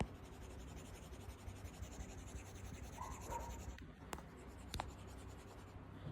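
Apple Pencil stroking across an iPad Pro fitted with a paper-like matte screen protector, giving a soft continuous scratchy rasp with a few sharper taps, close and steady, no talking.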